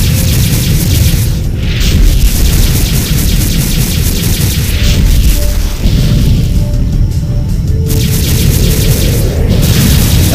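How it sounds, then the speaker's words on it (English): Bomber exploding as it is shot down in the space combat game Freespace 2, a loud sustained deep boom amid constant rumbling engine and weapon noise, with no speech over it. "Oh, the bomber thing is shot down anyway."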